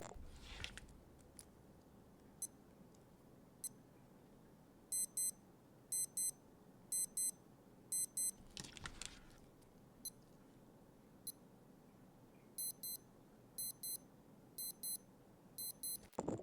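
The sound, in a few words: digital watch alarm beeping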